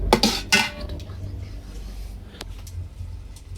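Lentils are stirred in a pan for chicken khichuri: a few sharp metal clinks of a spoon against cookware come up front, then a low, steady kitchen hum follows.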